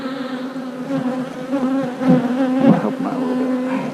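A thick, continuous buzz of honey bees fills the air at a new hive while someone talks briefly over the swarm's droning hum.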